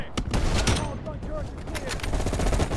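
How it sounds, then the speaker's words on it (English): SMG fire from the Cold War campaign of Call of Duty rattles in rapid, loud bursts that fill the short stretch, with a voice talking faintly underneath. "Sounded like the SMG."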